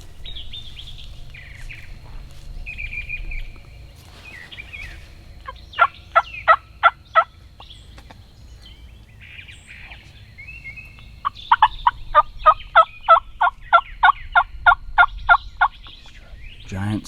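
A wild turkey in the Kentucky spring turkey season gobbles in two rapid rattling bursts, one short and one longer, separated by quieter stretches of faint chirping and outdoor ambience.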